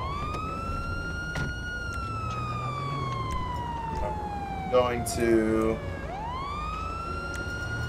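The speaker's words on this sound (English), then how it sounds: "Why is the siren on?" A police car siren wails steadily in a Southland roleplay video game, sweeping slowly downward before rising again, while a voice speaks briefly and other game sounds briefly chime in.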